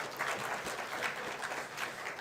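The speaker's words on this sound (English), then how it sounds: "Big round of applause to him, please." An audience at a deep-tech startup program event gives a short round of applause, a dense, moderately faint patter of clapping that lasts only a couple of seconds.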